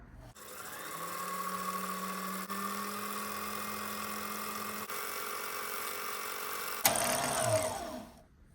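A Kenmore sewing machine winds a bobbin with a steady motor whir that runs evenly for several seconds. It ends in a brief clunk and rattle as the winder stops.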